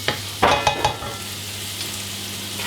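Chopped onion fries in a pan, a soft continuous sizzle broken by a few sharp scraping stirs of a spoon early on and again at the end.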